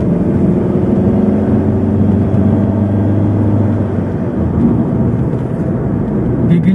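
A Honda Stream with automatic transmission, about 15 years old, accelerating from first gear upward with shifts near 3000 rpm; a steady, loud engine drone with low harmonics runs throughout, close and continuous, with no talk.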